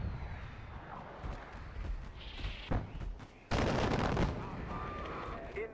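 Gunfire crackles in the video game Far Cry 4, with scattered shots and heavier bursts mixed with in-game voices and background noise, growing louder toward the end.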